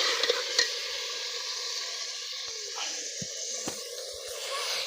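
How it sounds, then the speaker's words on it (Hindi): Meat with spices browning in a pot, giving a continuous soft sizzle with occasional stirring scrapes and light knocks. "ये गोश्त वगैरह भी डाल दिया है इसमें, भुनाई हो रहा है अभी"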